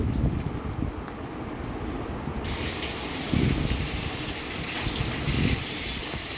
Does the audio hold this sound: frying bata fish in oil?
yes